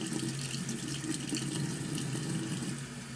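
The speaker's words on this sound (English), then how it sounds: "So make sure your tap water is really cold." Cold tap water runs steadily from a faucet into a sink for rinsing homemade butter, a close, continuous splashing stream with no speech.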